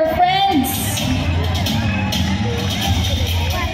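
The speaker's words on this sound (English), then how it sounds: "You can cheer for your friends." A crowd cheers and chatters at a city plaza during the Manlambus body-painting festival in Escalante City, a dense babble of voices with scattered whoops and shouts, loud and close.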